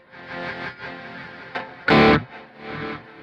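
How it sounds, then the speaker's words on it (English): Guitar played through a Kemper Profiler, with delay echo repeats fading in through an input swell, sustained distorted notes swelling and decaying alongside a loud strummed burst in the middle. "This creates a fade in of the delay sound of the echo"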